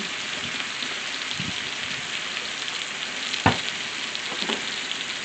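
Ground beef sizzles and crackles steadily in a pan with onion, garlic and chili powder, a dense, even hiss with a few sharper pops and stirring scrapes, and nobody talking.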